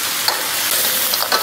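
River snails stir-fried in hot chili oil in a wok with Sichuan peppercorns, scallion and ginger, a steady loud sizzle with a few scraping stir strokes, no voices.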